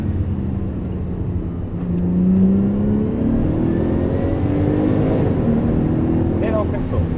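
A Porsche GT3 Turbo engine accelerating again out of a corner, its loud, steady roar rising in pitch over several seconds, heard close up with someone talking over it.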